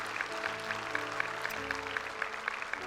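Church congregation applauding after a sermon, a steady patter of clapping with a sustained musical pad underneath, moderately loud throughout.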